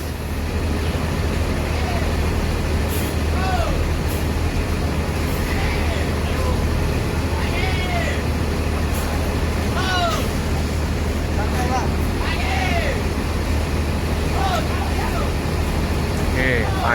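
A long intercity bus engine drones steadily as the bus pulls out and departs through busy traffic, with a continuous loud low rumble, passing vehicle noise and occasional higher whines throughout.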